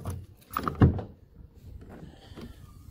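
The rear tailgate of a VW T4 van is unlocked and swung open, giving a close metallic latch click and a dull thunk followed by a low creak and rustle.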